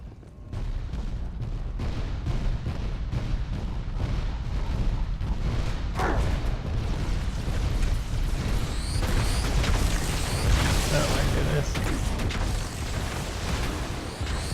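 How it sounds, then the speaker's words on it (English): Explosions in a CGI render rumble in a dense, continuous barrage of deep booms and crackling bursts, loud and sustained for the whole stretch with no clear gaps between blasts. "So many explosions."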